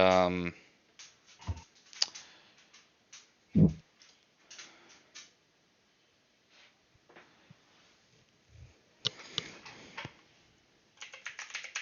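Fingers tap at a computer keyboard in quick irregular bursts of close, crisp clicks separated by short pauses, with a voice speaking briefly at the start and again near the end.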